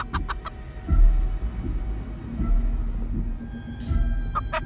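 A few scattered clucks from the giant chicken in the video game Chicken Feet, set against a low droning hum and periodic thumping pulses, with no talking.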